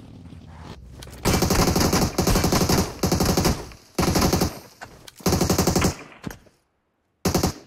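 Rapid-fire automatic gunfire from PUBG Mobile, in loud sustained bursts separated by short pauses, then a brief silence before a final burst, with no voices over it.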